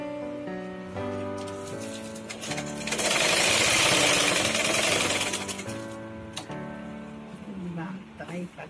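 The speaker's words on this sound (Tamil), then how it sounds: "எல்லா துணியும் மொத்தமா சேர்த்து வச்சு தையல் போடுறோம்." A sewing machine stitches through several stacked layers of fabric, a steady close mechanical whirring with a louder dense burst in the middle, then slower runs near the end.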